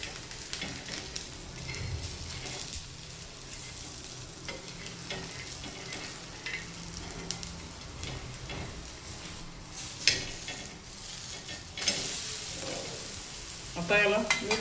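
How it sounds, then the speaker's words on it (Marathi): Besan poli flatbread roasting on a hot pan over a medium gas flame, giving a steady soft sizzle and crackle with faint scraping and a few sharper clicks toward the end, no talking. "आता याला मिडियम गॅसवर छान शेकून घ्यायचं आणि दुसऱ्या बाजूने शेकायचं"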